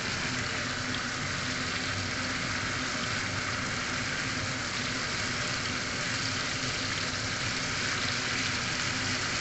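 Pork and onions fry in a pan with a continuous, even sizzle and crackle at moderate loudness, steady from start to finish and free of voices.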